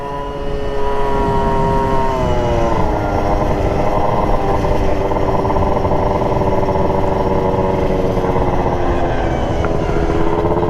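A Yamaha Super Zuma scooter engine revs hard while riding on the road, a loud, sustained high-pitched drone that climbs and dips slightly in pitch, with wind noise and no talking.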